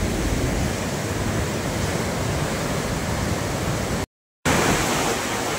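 Musi river floodwater rushing through Chadarghat in Hyderabad, a loud, steady broadband roar of churning water filling the whole scene, briefly cutting out for a moment near the end.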